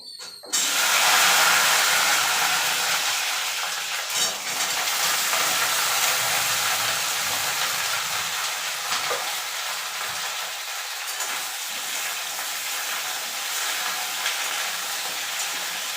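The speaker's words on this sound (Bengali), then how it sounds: "একদিকে ভেন্ডি ভাজা হচ্ছে আর একদিকে আমি ফুলকপিটা একটু গরম জলে ভাপিয়ে নেব" Okra pieces frying in hot oil in a pan in a home kitchen, giving a steady, loud sizzle and hiss that runs throughout, close by and with no talk over it.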